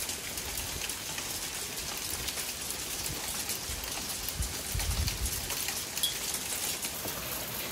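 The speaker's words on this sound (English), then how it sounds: "It is starting to hail pretty heavily" Heavy hail pours down outdoors over a garden, a dense, steady, loud patter that holds without pause for the whole stretch, with a slightly heavier surge near the middle and no voices.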